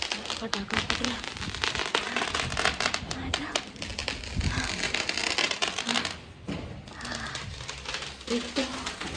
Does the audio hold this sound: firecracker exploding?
yes